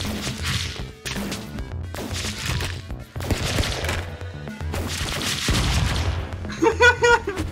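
Weapons fire in a shooter video game in a run of heavy crashing bursts and thuds, separated by short gaps, with a brighter crackling volley at the end and occasional talk underneath.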